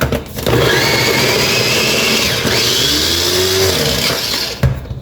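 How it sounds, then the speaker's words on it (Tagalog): An electric blender grinds meat for kebab, running loudly and steadily with a dense whirring roar, its pitch shifting slightly as the contents churn, then cuts off at the end. "I-blend ko na po siya."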